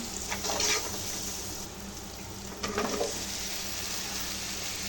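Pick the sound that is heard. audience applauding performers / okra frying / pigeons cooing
okra frying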